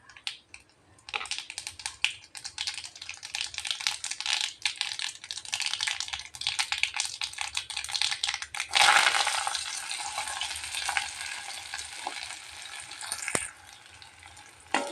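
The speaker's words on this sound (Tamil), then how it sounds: "இப்போ நம்ம கடுகு உளுந்து சேர்த்திக்கலாங்க" Mustard seeds and urad dal splutter and crackle in hot sesame oil in a kadai, a dense, loud, continuous sizzle with sharp popping that surges in a burst partway through, with no talking.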